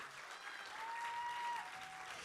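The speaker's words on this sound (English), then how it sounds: "Can we clap for that poet?" A poetry slam audience claps steadily, a soft wash of many hands heard at some distance, with a faint tone running through it.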